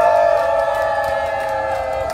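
At an outdoor protest press conference, a crowd raises a loud sustained shout together, voiced cries blending into a single roar that holds for about two seconds.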